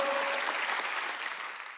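A church congregation breaks into steady, dense applause during a sermon, the clapping continuing evenly throughout and fading slightly at the close.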